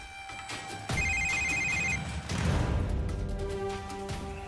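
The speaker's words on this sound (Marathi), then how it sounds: "सूर्याचा फोन." A telephone rings in a loud, short burst of repeated electronic trills over steady background music in a Marathi TV drama scene.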